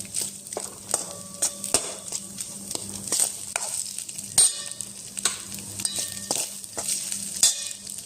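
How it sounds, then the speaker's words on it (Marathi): Rice roasting in ghee in a pan, a steady soft sizzle broken by repeated scraping and clanking strokes of a stirring spoon against the pan, close and continuous with no talking. "छान भाजून घेते, म्हणजे थोडे परतून घेते तुपामध्ये याला"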